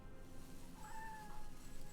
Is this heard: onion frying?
no